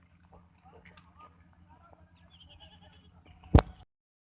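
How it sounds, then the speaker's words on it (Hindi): A Makhi Cheeni goat gives a single short, sharp bleat close to the microphone after a stretch of faint background sound and speech. "ये चेक कर ले मक्खी चीना बकरा माशाल्लाह"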